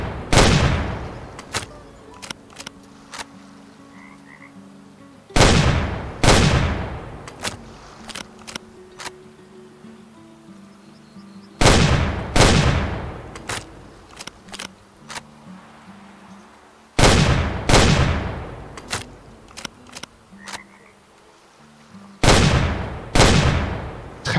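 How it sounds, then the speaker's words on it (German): Rifle shots in the hunting game Way of the Hunter, several loud sharp cracks with booming tails spaced a few seconds apart, each followed by faint clicks of bolt cycling. "Zweiter Schuss, der saß dann."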